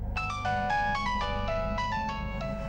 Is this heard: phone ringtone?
yes